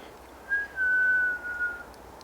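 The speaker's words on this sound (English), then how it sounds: "There's a weird whistling in the woods. Pretty constant." In quiet woods, a single whistled tone rises briefly and then holds steady for about a second before fading, clear and moderately loud over faint background hiss.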